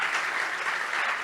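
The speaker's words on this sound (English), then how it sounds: "give a big round of applause to all of the" Keynote audience gives sustained applause, a dense, even roar of many hands clapping at moderate volume, steady throughout with no talk above it.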